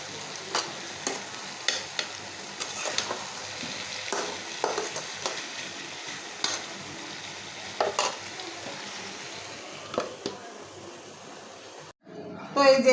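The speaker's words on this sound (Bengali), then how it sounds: "এখন আমি দিয়ে দিব টমাটোর কুচিগুলো এটা দিয়ে আমি ভাজা ভাজা করে নেব" Chopped tomatoes frying in a pan on a clay stove, a faint steady sizzle with scattered scraping stirs at irregular intervals, fairly quiet and close, ending in a brief louder clatter.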